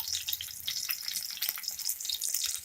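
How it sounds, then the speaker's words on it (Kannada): Onions for a garlic chutney fry in a pan, giving a steady, close crackling sizzle with a few light stirring scrapes, moderately quiet and wordless. "ನೋಡಿ, ಈರುಳ್ಳಿದು ಕಲರ್ ಚೇಂಜ್ ಆಗಿದೆ, ಅಲ್ಲಿಗಂಟ ಫ್ರೈ ಮಾಡಿದ್ದೀನಿ ನಾನು"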